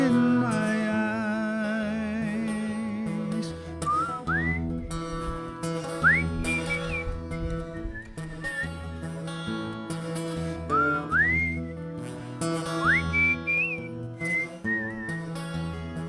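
One person whistles a melodic tune at an open mic, with bending pitch slides and short phrases over a soft background accompaniment.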